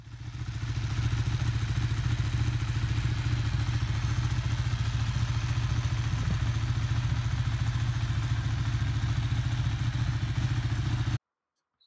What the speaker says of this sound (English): Spoke to a Ducati dealer, ended up with this 1299 Panigale.